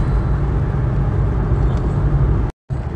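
Rented car cruising on a road in Qatar, a steady low engine and road rumble heard from inside the cabin, loud and continuous apart from a brief cut near the end.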